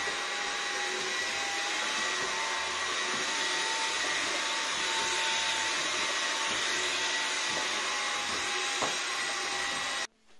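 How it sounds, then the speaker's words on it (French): A Jimmy PW11 Pro Max 5-in-1 wet vacuum cleaner runs at full power with a loud, steady motor whine while spraying cleaning liquid ahead of it, then cuts off abruptly near the end. "on peut appuyer sur le bouton du jet pour envoyer du liquide devant"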